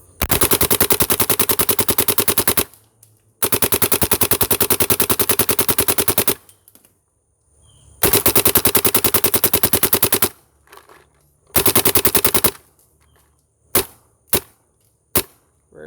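A CSR paintball gun fires long, rapid bursts of paintballs at close range, several sustained rattling strings separated by pauses, ending with a few single shots.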